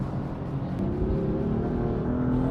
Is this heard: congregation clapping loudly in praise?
no